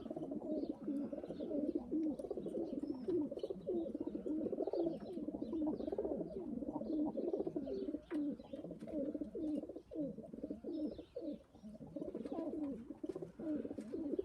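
Several pigeons coo steadily and continuously inside a loft, a dense overlapping chorus of low throaty calls that never breaks across the whole stretch, fairly close and loud, with no voices over it.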